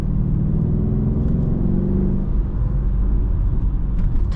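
A Mercedes CLS63 5.5 liter biturbo engine rumbles loudly and steadily from inside the cabin, a deep continuous growl with a slight rise in revs, no talking.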